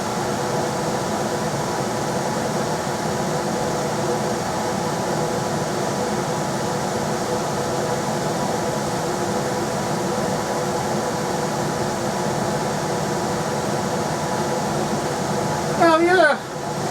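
A Rheem air handler's blower motor runs steadily on high, pushing air through the household ducts as a loud, even whoosh with a faint mechanical hum. A brief rattle sounds near the end.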